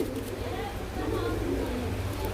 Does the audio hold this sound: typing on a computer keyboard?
no